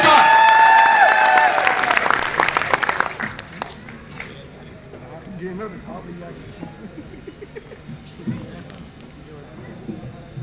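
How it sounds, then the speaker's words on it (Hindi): Applause and crowd noise at a Yuva Sevak Sangh meeting swell loudly for the first few seconds, mixed with a voice, then fade to a low murmur of the gathering. "तालियां जोरदार।"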